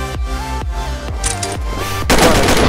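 Gunshots fire in the online shooter match on the Snow Valley map: about five sharp, loud reports spaced roughly half a second apart, each ringing out briefly, followed by a denser burst of noisy fire at the end.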